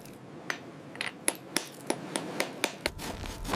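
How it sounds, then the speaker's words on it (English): Sharp tapping strikes of a hand tool chipping barnacles and tube worms off a salvaged metal safe, about a dozen evenly spaced knocks at a steady pace, with no voices. "the harder accretions, barnacles and tube worms, had to be chipped off manually"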